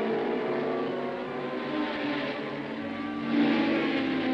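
Seventeen Formula One racing cars of 1966, a Repco-Brabham on pole, set off over dunes in front of a crowd. Their engines make a loud, blended roar that swells near the end.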